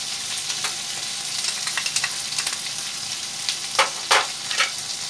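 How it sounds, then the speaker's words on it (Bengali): Potatoes fry in oil in a pan for a Bengali pointed gourd and prawn dish, giving a steady close sizzle with a few sharper stirring scrapes toward the end. "আলুগুলো একটু ভাজা হয়ে গেছে।"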